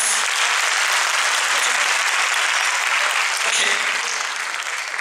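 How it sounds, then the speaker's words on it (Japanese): An audience at a YOSAKOI dance troupe's anniversary celebration applauds in a steady, dense wash of clapping that holds loud and even throughout. "もう一度全員揃って拍手いただきたいと思います。"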